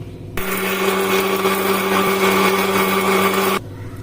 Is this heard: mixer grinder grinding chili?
yes